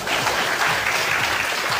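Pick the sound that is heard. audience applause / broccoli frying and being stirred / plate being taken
audience applause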